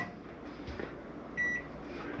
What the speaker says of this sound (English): Coming into the kitchen, a microwave working.